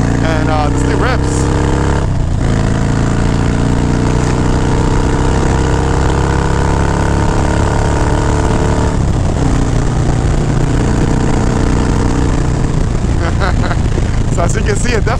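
Carbureted Harley-Davidson FXR with a Twin Cam 88 engine runs loud and steady throughout, a dense, continuous engine roar with the pitch shifting as it revs, and speech-like sound mixed in over it.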